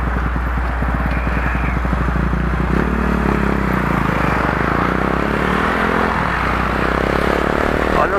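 Several small motorcycles, including Twist, XR and 150–160 cc bikes with sporty exhausts, rev their engines at a traffic light on a city avenue, a loud continuous engine roar rising and falling close by.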